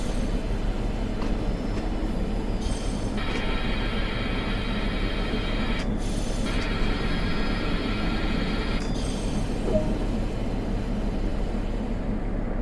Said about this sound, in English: Then move it back to stop and wait until the train comes to a halt.